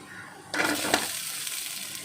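Black pepper, cumin seeds and coriander seeds hit a hot pan and begin roasting, a sudden close sizzle that jumps up then settles into a steady crackling hiss, with no talking.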